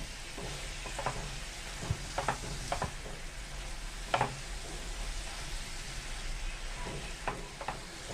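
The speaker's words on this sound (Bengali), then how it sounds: "এবার আমি ভালো করে আলুর সাথে মিশিয়ে নিচ্ছি" A spoon stirs softened spinach and potatoes in a cooking pan, giving a soft sizzle with scattered scrapes and light knocks against the pan, close and moderately quiet, with no talking.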